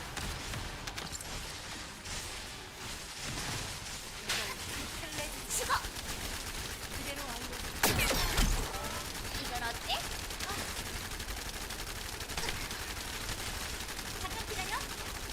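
Rapid, sustained gunfire from a weapon with a superheated gun barrel in the looter-shooter game The First Descendant, with dense overlapping bursts and a louder cluster of shots near the middle.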